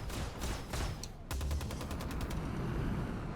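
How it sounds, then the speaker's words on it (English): Rapid cannon fire from a P52 Merlin spaceship in the space game Star Citizen, a steady stream of loud, punchy shots in quick rhythmic bursts over a constant engine roar. "I'm not sure where that cannon is actually mounted."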